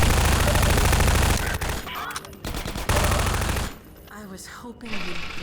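Rapid, loud automatic gunfire hammers away in Half-Life 2: Episode One as Combine soldiers are shot, bursts stopping and restarting, with brief gaps where other game sounds and a voice come through.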